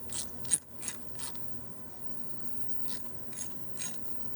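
A round-head teardrop style ratchet, freshly lubricated, clicks in short quiet bursts of rapid ticks, about eight soft clusters spaced irregularly, close up and alone.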